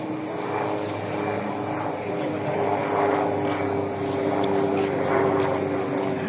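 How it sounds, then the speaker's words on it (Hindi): A steady droning engine of a helicopter passing overhead at Raja Bazar, Rawalpindi, sustained and fairly loud, with faint background activity beneath it. "हेलीकॉप्टर भी आया देखने के लिए"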